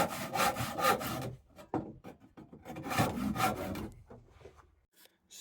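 A hand saw cuts wood for a sawhorse, rasping in close, loud bursts of back-and-forth strokes, pausing briefly mid-clip before another run of strokes and a quiet tail.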